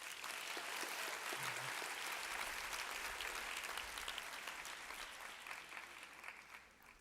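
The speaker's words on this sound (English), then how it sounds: "let's give ourselves a round of applause for that" Steady applause from a crowd, dense clapping that holds for several seconds before tapering off near the end.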